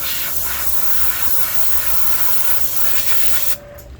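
Steady airbrush-style spray hiss as yellow paint goes straight onto a vintage Storm Wiggle Wart fishing lure body with no white base coat, close and continuous before cutting off near the end.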